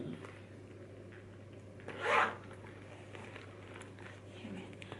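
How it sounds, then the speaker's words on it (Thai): A zipper on a travel cosmetics pouch is pulled in one quick, close stroke of about half a second against a quiet room. "ฝั่งนี้โอเคมันเป็นซิปแบบนี้นะคะ"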